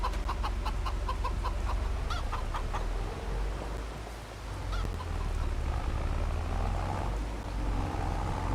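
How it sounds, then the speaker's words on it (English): Rooster crowing and chickens clucking in the Farming Simulator 25 farm game, repeated crows and clucks over a steady low ambient hum, fairly close and continuous. "Get them one nice rooster, and hopefully that one will take care of these guys."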